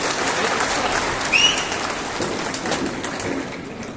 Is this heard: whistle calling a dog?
no